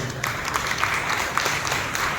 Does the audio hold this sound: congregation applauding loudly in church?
yes